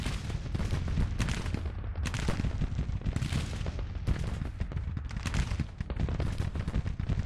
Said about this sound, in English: Our artillery's doing a lot of work.